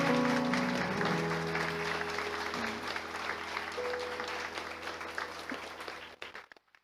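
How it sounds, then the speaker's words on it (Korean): A church congregation keeps applauding at the close of a Sunday service while two pastors walk back to their seats. The steady clapping runs under faint organ-like held tones, then thins out and stops near the end. "들어가실 때까지 박수 해주시면 감사하겠습니다."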